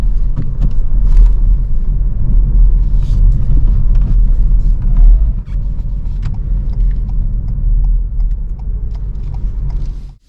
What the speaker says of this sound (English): changing down to the wrong gear for your speed can make the car jerk like this